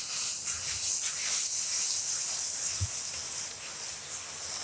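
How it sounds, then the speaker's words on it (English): Hot water steam hisses against a Blackstone griddle during cleaning, a continuous close, bright spray-like hiss that holds steady throughout. "use the power of steam to clean the griddle"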